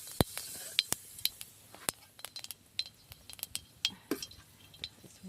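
Cumin seeds crackling and popping in hot oil in a kadhai, a string of sharp irregular clicks and spits, loud and close, with faint clinks of a utensil.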